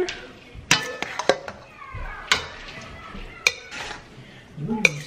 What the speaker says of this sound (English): And then I just take a fork and I mix it up.